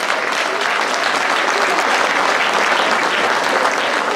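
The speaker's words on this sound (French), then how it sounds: "Je pense qu'on pourrait tous les applaudir." A hall full of people at a gastronomy fair in Le Mée-sur-Seine applauding steadily and loudly, dense uninterrupted clapping that fills the whole stretch.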